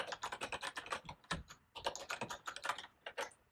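Steady, fast typing on a computer keyboard while code is written, with dense overlapping key clicks in short bursts and brief pauses, close and clear with no voices.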